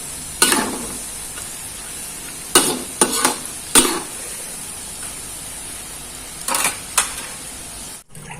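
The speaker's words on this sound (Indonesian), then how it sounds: "Ini kita goreng biji-biji garamnya." Biji-biji garam, small Manado Christmas cookies, frying in hot oil, giving a steady low sizzle with several sharp crackling bursts and spatters scattered through, near and fairly loud, with no talk.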